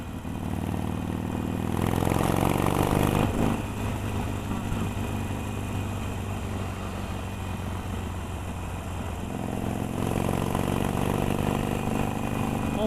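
A Harley-Davidson 883 motorcycle rides along a road with a continuous loud engine rumble and wind noise, its pitch rising and easing slightly with the throttle, heard up close from the rider's position.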